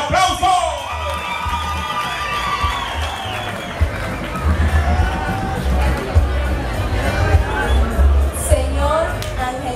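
A lively outdoor crowd at a patron saint festival cheers, whoops and claps amid loud babble and shouting, with booming background music throughout.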